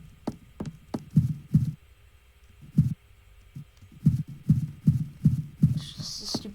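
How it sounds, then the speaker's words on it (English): Heartbeat sound effect in a video game: a series of low, thudding double beats, irregular at first and then steady, fairly loud with faint background hum and no talking. "I swear to gosh I heard a heartbeat."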